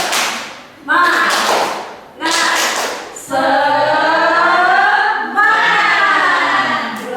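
A group performs the 'tepuk semangat' clapping routine, bursts of loud claps falling in rhythm between chanted voices in unison during a school gathering.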